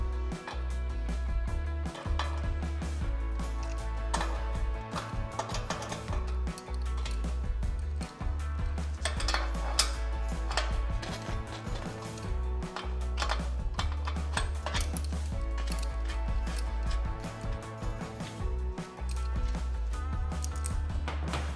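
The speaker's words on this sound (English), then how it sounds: "So I have my wrench here, adjusted to that size, and all I'm gonna do is loosen these nuts." A wrench loosening the axle nuts on an electric bike wheel during a flat tire repair gives a run of small, close, irregular metallic clicks and ticks, with no speech.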